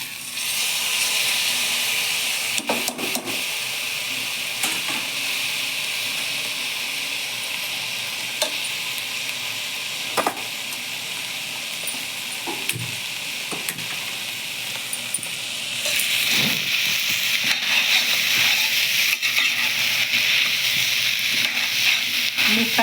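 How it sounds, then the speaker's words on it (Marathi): Rice and lentils sautéed in a pan with soybeans for a green chili khichdi, giving a steady close sizzle and hiss with occasional stirring scrapes, growing a little louder toward the end. "आणि याच्यामध्ये तांदूळ आणि डाळ टाकून चांगले परतून घेत आहे"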